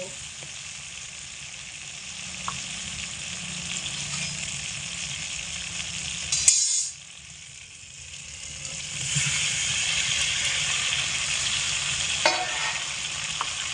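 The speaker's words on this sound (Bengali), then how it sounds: "এই মতো অবস্থায় আমি সিদ্ধ করে রাখা আলুর পিসগুলোকে এই সমস্ত মশলার মধ্যে দিয়ে দেব" Boiled potato pieces fry in hot spiced oil in a pan, giving a steady close sizzle with stirring scrapes, a short louder burst and pause midway, then the sizzle resumes strongly.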